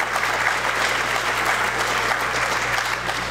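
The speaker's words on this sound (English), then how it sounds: "you can give him a round of applause now" An audience at a school district leadership retreat gives a round of applause, a steady wash of clapping at moderate volume with a low hum underneath.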